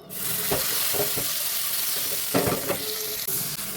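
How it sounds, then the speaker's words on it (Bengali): Ridge gourd peel paste frying with spices in a hot pan, a steady loud sizzle with a few scraping stirs of the spatula and no talking. "এইবার আমি এর মধ্যে ঝিঙের বেটে রাখা ঝিঙের খোলাটা দিয়ে দেবো"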